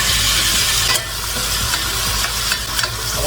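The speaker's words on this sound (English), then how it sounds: "First I'm going to drop the onion in." Onion hits hot oil for a cauliflower and tofu curry, a loud, dense sizzle that settles into steady frying with scattered stirring scrapes and taps.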